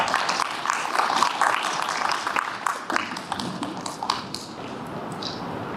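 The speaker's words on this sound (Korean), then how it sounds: "무대 위로 올라오실 때 박수 한번 부탁드리겠습니다" An audience at a civic launch ceremony claps as an official walks up to the stage, scattered, uneven claps of moderate loudness, fairly near, thinning out toward the end.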